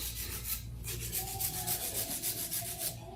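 Hand file rubbing back and forth on an acrylic nail in a nail salon, a steady run of close, rhythmic rasping strokes with no talking.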